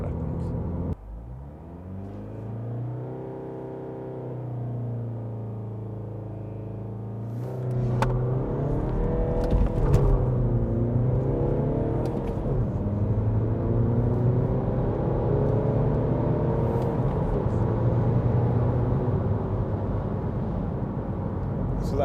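A remapped B47 diesel MINI Cooper SD launches hard in an acceleration test, the engine note rising through gears with shift dips and a steady droning rumble from inside the car.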